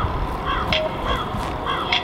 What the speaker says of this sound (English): There's that crow again.